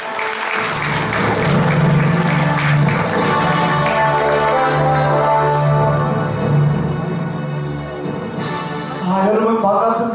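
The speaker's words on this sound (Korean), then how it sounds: "여러분 큰 박수로 무대로 모셔주십시오." Audience applause fills a convention wedding hall in Gumi at a political party founding convention, a loud, steady wash of clapping that lasts throughout, layered over a sustained tonal, music-like hum.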